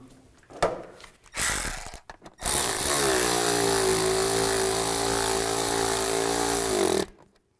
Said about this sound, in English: Put these bolts in. Tighten them down.